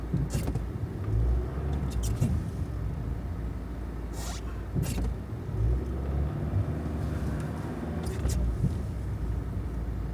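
A car strains to climb a snowy mountain road without chains, its engine rumbling low and steady for the whole stretch, with occasional creaks and brief higher whines rising over the drone.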